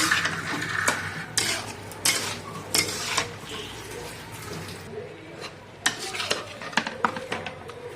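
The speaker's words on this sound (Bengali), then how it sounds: "ঝাল লঙ্কা গুঁড়ো দিয়ে দিচ্ছি আর কিছু দেব না এটা ভাজি করছি" Potatoes frying in a pan with chili powder: a spatula scrapes and clinks against the pan in uneven bursts over a low, continuous sizzle, with no voices.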